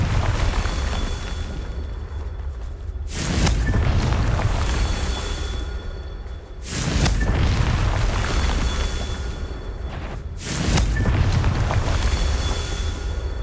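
Three loud booming blasts from the Confringo fire spell in the Hogwarts Legacy video game, each a sudden burst followed by a rumbling roar that lingers before the next, spaced about four seconds apart.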